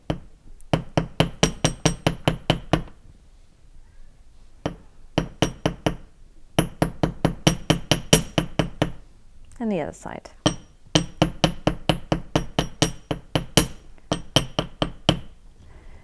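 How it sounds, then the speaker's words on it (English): A metal hammer taps rapidly and repeatedly on jewelry wire, making earrings, in several quick bursts with short pauses, and a voice speaks briefly between them. "I've used a metal hammer which has put little kinks in my wire"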